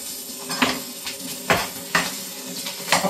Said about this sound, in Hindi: ये अपन ने डाल दिया प्याज